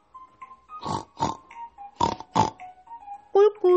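A voice imitates a pig's oinks in short, separate grunting bursts, followed by a couple of higher squeaky notes near the end.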